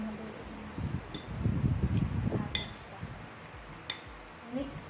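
Raw pork seasoned with salt and pepper is mixed by hand or utensil in a bowl, with soft, close squishing and rustling and a few sharp clinks against the dish.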